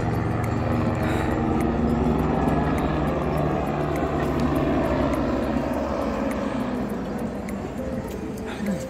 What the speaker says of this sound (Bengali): হেলিকপ্টার যাচ্ছে